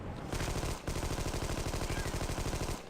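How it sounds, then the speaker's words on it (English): Sustained machine gun fire in the game Armed and Dangerous rattles in fast, even bursts, loud and close, with a brief break near the start before the steady stream resumes. "I only have machine gun and these guys are impervious to machine gun fire"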